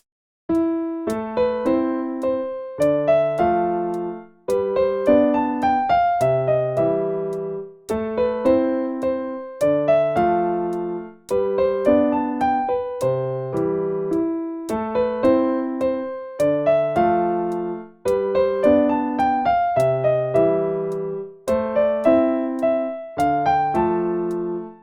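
Solo piano playing Chopin's Waltz in A Minor, a steady lilting triple-time melody over bass notes and chords, clear and close with short pauses between phrases, no voices.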